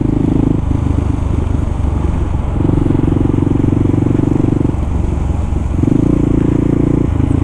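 A Kawasaki KLR650 motorcycle rides along local roads, its engine droning loud and steady throughout, with throttle swells and dips as the rider shifts and varies speed.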